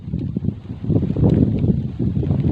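Steady wind gusts buffet the microphone, producing a continuous low rumble that swells and eases.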